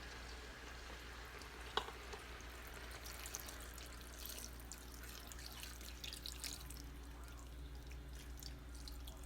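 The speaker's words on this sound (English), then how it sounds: "Pour your broth over." Broth is poured into an Instant Pot over cooking vegetables, a faint, steady liquid trickle and splash with one small clink near the start, heard alone without talk.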